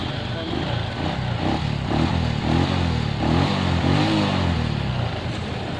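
A Suzuki Shogun 125 motorcycle engine is kick-started and runs with a steady, close idling putter, with repeated low chugging pulses through the running and no voices.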